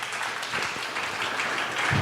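Conference audience at GUADEC 2024 breaking into applause after a talk slide, a brief, full wash of clapping heard close and fairly loud, continuous for about two seconds with a low thump near the end.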